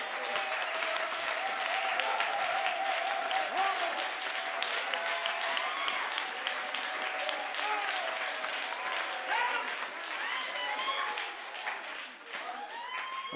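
A church congregation claps and cheers loudly and continuously for about thirteen seconds during a healing service, a dense sustained roar of applause with voices mixed in.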